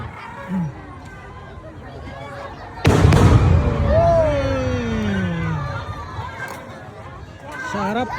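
A sharp firework blast booms out at an Independence Day event, followed by crackling and rumbling echoes, while a crowd cheers and people talk nearby.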